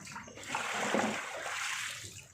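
Water poured out of a basin after a dog's bath, one continuous splashing gush that swells and then tapers off over about two seconds, fairly close.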